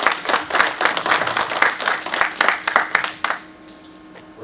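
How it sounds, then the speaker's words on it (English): A conference audience claps loudly to welcome a pastor to the stage, sharp dense hand claps lasting about three seconds before stopping abruptly, leaving a quiet room tone. "Give him a big round of applause, Brother Steve Schwambach."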